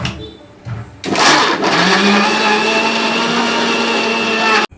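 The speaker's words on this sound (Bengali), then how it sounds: "এখন এই মানকচুগুলো মিক্সারে পেস্ট করে নিচ্ছে" A mixer grinder churns giant taro (mankachu) into paste, a loud steady motor whine that kicks in after a brief start and runs continuously until it cuts off abruptly near the end.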